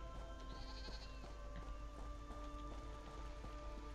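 A sheep bleats briefly and faintly in The Elder Scrolls Online, set against a steady low ambient wash with soft patter and occasional light taps.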